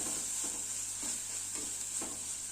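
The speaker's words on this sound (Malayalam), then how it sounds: "ഇനി ഇതൊന്ന് ഈ പൊടിയൊന്ന് വഴറ്റട്ടെ." Spice powder with salt being sautéed in a pan for a Kerala coconut fish curry: a constant bright frying hiss with regular scraping stirs about every half second, close up and alone.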